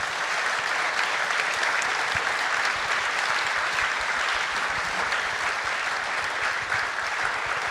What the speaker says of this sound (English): And if you could give them a round of applause, please.